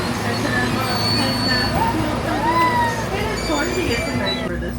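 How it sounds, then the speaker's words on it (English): Ride aboard the Jupiter tram at Space Center Houston, a steady rolling rumble with faint wheel squeal and rattle throughout, while people chatter in the background. "Okay, this time we were on the Jupiter tram."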